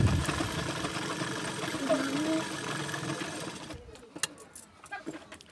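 A sewing machine runs steadily for almost four seconds, stitching the attached strip onto a katori blouse, then stops. Scattered clicks and handling noises follow, with faint talking in the background.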